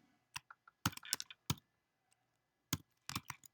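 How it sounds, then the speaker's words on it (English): Separate keystrokes clack on a computer keyboard while someone types a list of computer terms and presses return between entries. The clicks come in short bursts with pauses between them and sound close and fairly crisp, with no talking. "I'm going to press return 3 times and type in the next term"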